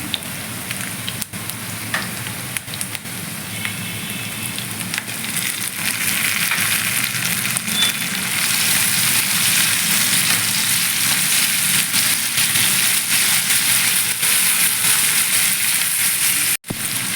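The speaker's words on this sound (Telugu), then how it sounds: "ఇప్పుడు టమాటా వేగిపోతుంది కదా" Tomatoes and green chillies frying in a pan for tindora curry, a continuous loud crackling sizzle that grows fuller partway through, with faint stirring sounds and no talk.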